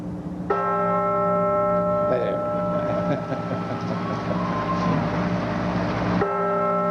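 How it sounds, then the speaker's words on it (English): The centennial bell sounds during the 1987 Constitution bicentennial celebration in Philadelphia, a steady sustained ringing tone holding for several seconds amid a busy outdoor crowd and other noise, then cutting off abruptly. "ringing the centennial bell, and with it will be rung bells all over the nation."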